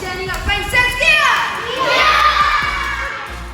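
A group of children in a kids' beginner martial arts workshop shout a loud kiai together, a rising collective yell that swells and fades, with scattered voices and movement in a lively room.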